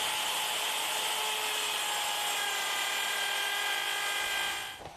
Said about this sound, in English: For very deep cuts, you're best working from either side, so turn the leg over and repeat the cut